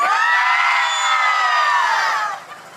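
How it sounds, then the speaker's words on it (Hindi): Wedding guests at a sangeet celebration cheer, whoop and shout loudly together for the groom, a sustained crowd roar that fades toward the end. "make some noise for the Dishant"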